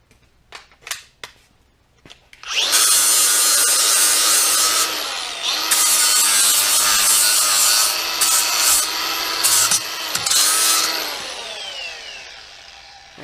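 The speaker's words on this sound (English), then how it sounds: "Already got the flapper wheel on it." A flap wheel on a grinder works over a steel loader hydraulic cylinder in a shop, opening with a few sharp clicks, then a loud close-up abrasive whine that rises and falls as the wheel is pressed and eased over the surface.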